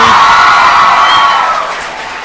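A lively audience at a live podcast show in New York City cheers and whoops with some clapping, loud and sustained before easing off slightly toward the end.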